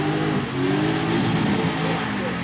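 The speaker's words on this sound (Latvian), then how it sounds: "Tas ir dalībnieks uz 25. numuru Arnis Namnieks. BMW 306. BMW ar Nissan motoru." A BMW 306 drift car with a Nissan engine, number 25, revs at a drift event at Biķernieki, the engine rising and falling in pitch through short throttle blips, loud and close, with talk over it.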